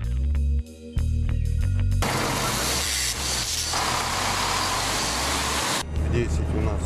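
Orange Epoke street-cleaning vehicles drive off at night along Moscow's Garden Ring, a loud broadband rush of engine and hissing air filling the scene, with a short engine idle before and after.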